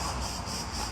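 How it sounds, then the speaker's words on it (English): Crickets in Greece chirp in a dense, continuous high trill, loud and close, pulsing slightly with no voices present. "Why do y'all crickets sound like this?"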